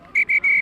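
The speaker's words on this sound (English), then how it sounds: "Whistle goes." A referee's whistle at a school rugby sevens match sounds three sharp blasts in quick succession, the last one longest, loud and close.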